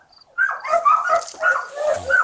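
A dog barks repeatedly from the other side of a chain link fence in a backyard, the sharp, close barks coming in quick bursts at a steady rhythm.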